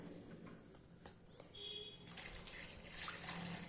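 Water pouring and splashing into a bowl of freshly churned butter to rinse it, a soft trickle swelling into a steadier, louder pour partway through, close by with no talk.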